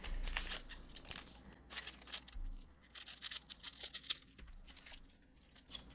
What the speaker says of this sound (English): I'm going to be here very careful with what I cut here with Chopper, our mighty and trustworthy scissors